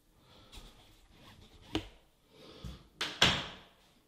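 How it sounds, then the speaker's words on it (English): Solid core interior door swinging shut on newly installed ball bearing hinges, a light click partway through followed by a firm latch thud near the end, close and clear in a quiet room. "See how the door closes?"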